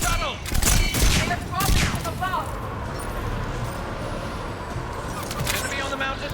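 Mounted gun fire in the Mass Effect 3 video game: bursts of rapid, loud shots early on, then continued rattling battle noise and combat ambience, with voices calling out over the action.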